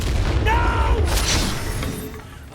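Confringo fire spell blast in Hogwarts Legacy on PS5, a loud booming burst with a crackling, whooshing tail over low rumbling game ambience.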